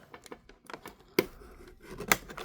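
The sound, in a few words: scissors cutting ties on toy packaging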